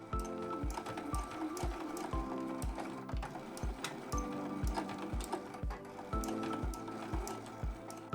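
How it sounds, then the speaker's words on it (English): Sewing machine stitching over the metal bottom end of a zipper on a fabric bag, a quiet, steady run of low, evenly spaced needle thumps with a mechanical whir and no talking. "So I'm going to sew over this with just a few rows of stitches."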